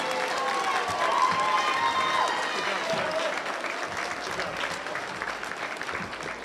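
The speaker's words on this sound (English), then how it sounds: "So if you could please give them another round of applause." Steady applause from a sizable crowd at a school awards assembly, loud at first and easing off slightly, with a few voices calling out under the clapping.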